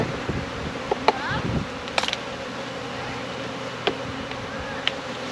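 Honey bees buzz steadily around an open hive, a dense close drone broken by a few sharp clicks and knocks of handling.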